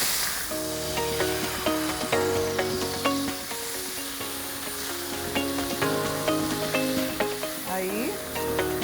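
Beef loin and chicken breast pieces sizzle steadily in a hot pan, with scraping stirs and utensil clinks recurring throughout, fairly close and loud, with a faint voice briefly in the background.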